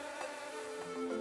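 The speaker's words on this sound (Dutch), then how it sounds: "En hoe je insecten verdrijft. Vlieg op!" Flies buzz steadily in a cartoon scene, a continuous close insect drone with slight wavering pitch lasting just over a second, with no voices over it.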